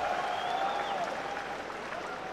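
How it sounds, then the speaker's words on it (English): A ripple of applause from the crowd at a pool championship quarter-final in Hanoi, soft and fairly distant, steady clapping with a faint tonal whistle drifting above it. "The ripple of applause greets him landing on the 9"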